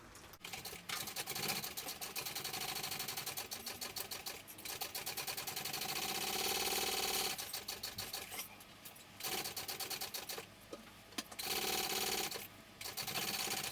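A sewing machine bastes fabric pieces of a sling bag together, its needle stitching in steady, loud bursts that stop briefly between runs.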